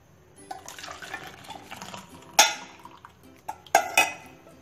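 Tea is strained in a kitchen beside a clay kulhad on the gas, with soft liquid trickling and pouring mixed with several sharp clinks of utensils and metal, all fairly quiet and close.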